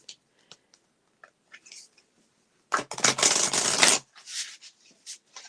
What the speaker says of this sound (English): I love the sound of the cards.